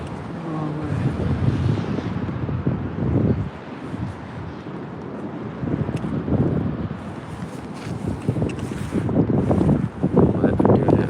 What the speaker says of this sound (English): Wind is definitely at my back.